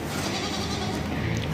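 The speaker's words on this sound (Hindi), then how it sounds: "ये प्योर गुलाबी बकरी है, स्पॉटलेस है बिल्कुल" A pure pink, spotless goat bleats loudly and continuously at close range in a busy livestock market, with dense background crowd noise throughout.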